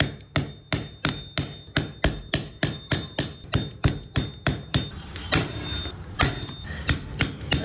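Heavy hammer blows strike an old 30-year-old printer in a steady rhythm of about twenty loud, sharp, close impacts with a metallic ring, briefly giving way to a rattling clatter before the blows resume.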